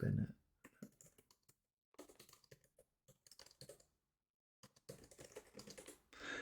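A computer keyboard clatters as a ChatGPT prompt is typed, with bursts of quick, close key clicks separated by short pauses and a brief spell of silence midway, fairly quiet overall.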